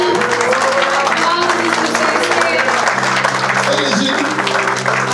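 A church congregation applauds and cheers Jesus during a lively worship service in Roubaix, with steady, dense clapping under held sung or shouted voices and music throughout.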